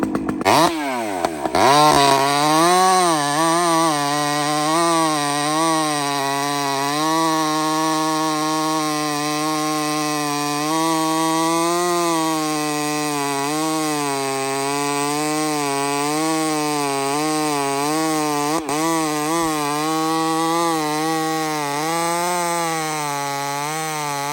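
A chainsaw runs loud and close for a long stretch, its engine note dropping and wavering as it bogs down under load while cutting, then recovering, with no talk.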